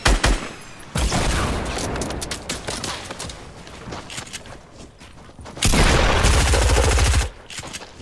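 Shooter video game gunfire, with sharp close shots and rapid automatic bursts, a dense volley near the start and another loud sustained burst later, separated by quieter scattered shots.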